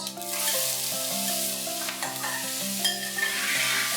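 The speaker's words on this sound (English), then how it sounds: "We have to saute these onions till they are beautiful, golden and crisp." Finely chopped onions sauté in a pan with green cardamoms, cloves, peppercorns, bay leaves and shahjeera, giving a continuous close sizzle under steady stirring, with a faint musical tone running beneath.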